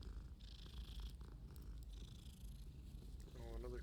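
A cat purrs in the Hogwarts Legacy video game, a faint continuous low rumble running under game music and effects, with a brief burst of other sound near the end.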